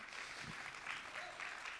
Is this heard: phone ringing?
no